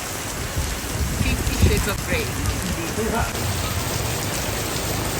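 Steady heavy rain pours over Hanoi Weekend Market during a typhoon, a dense constant hiss of drops hitting surfaces with a brief voice underneath.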